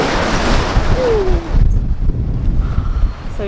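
Waves and wind batter a sailboat rolling heavily in an Atlantic storm, a loud broadband rush of surf and gusting air with a brief tonal creak midway and the wash easing slightly toward the end.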